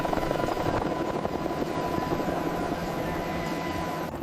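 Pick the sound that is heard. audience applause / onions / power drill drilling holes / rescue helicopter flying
rescue helicopter flying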